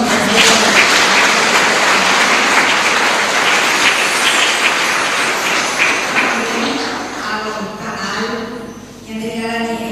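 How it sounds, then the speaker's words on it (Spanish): Loud, dense applause fills a chapel during a live-streamed church service, sustained throughout and thinning slightly near the end before swelling again. "Fuerte aplauso."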